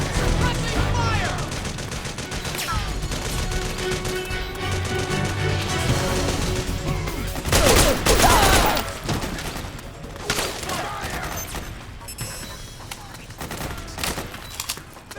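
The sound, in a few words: gunfire in Metal Gear Solid 4 video game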